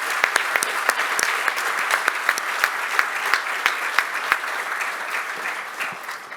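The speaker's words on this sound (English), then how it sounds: "Please give these wonderful gentlemen a round of applause." Summit audience applauding a panel, a steady wash of clapping with a few sharp, close claps standing out, fading slightly at the end.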